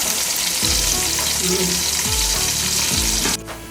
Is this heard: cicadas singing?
no